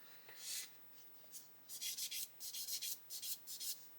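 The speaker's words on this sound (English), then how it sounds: "sand this tyre to get rid of that mould seam in the middle, which is something all us scale modelers do" A scale model Avro Lancaster B.III tyre is sanded to remove its moulding seam. It comes as a quick, close series of about a dozen short, dry rasping strokes in steady rhythm, fairly quiet with no voices.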